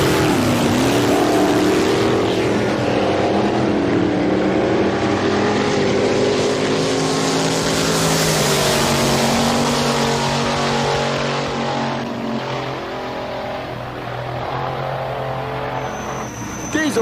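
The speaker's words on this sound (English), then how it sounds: "1953 Kenworth body truck, powered by a big block Chevrolet engine" A 1953 Kenworth wheelstander truck with a big block Chevrolet engine, rear wing and side-exit stack, performing at a drag racing show, roars loudly and continuously with throbbing revs, easing off slightly near the end.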